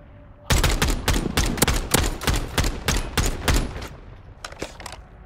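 Gunfire in Call of Duty Modern Warfare III, likely from an MCW rifle with a conversion kit, sharp rapid shots in quick bursts, loud and close, tapering into a few sparser shots at the end.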